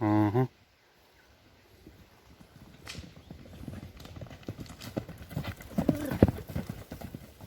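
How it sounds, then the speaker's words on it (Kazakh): Horses running unwhipped along a track, hooves clip-clopping in a steady fast rhythm that grows louder and nearer, with a brief tonal sound at the very start. "Өзү үйрөнгөн аттар камчысы жок эле чуркайт"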